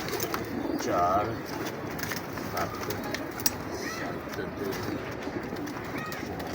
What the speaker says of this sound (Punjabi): ਇਹ ਦੇਖੇ ਜੀ ਉਸਤਾਦ ਬੜਾ ਤਗੜਾ ਕਬੂਤਰ ਹੀ